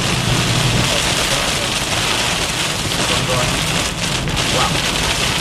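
Heavy rain pours down in a Florida hailstorm, a dense, steady roar of drops that stays loud and unbroken throughout, with some wind noise in it.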